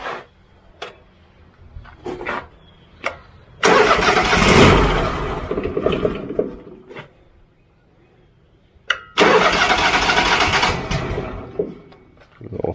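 A new sawmill's engine cranking and catching twice, each time roaring to a loud rough run for a few seconds before dying, with scattered clicks and knocks between attempts outdoors.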